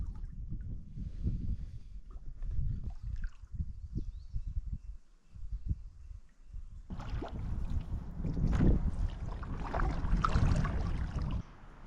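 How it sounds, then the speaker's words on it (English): Paddle strokes splash and drip as a canoe moves out into the wind on a tiny lake, quiet rhythmic dips at first, then louder gusty water and wind noise. "We're gonna paddle out into the wind and have our snack."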